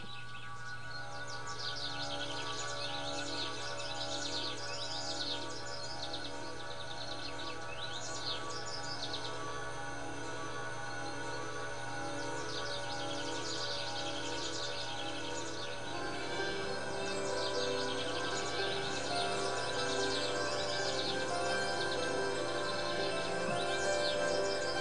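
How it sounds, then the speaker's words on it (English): Recorded birdsong from an old record, bright repeated chirps and tweets layered over a steady low hum and a dense, even background, continuing at a moderate level throughout. "These birds are from some record, they're not from the neighborhood or anything."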